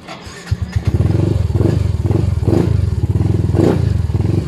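A Yamaha Mio i 125 scooter engine cranks with a few thumps, then catches and runs at a loud, close, pulsing idle with rhythmic surges of revving and a slight mechanical clatter.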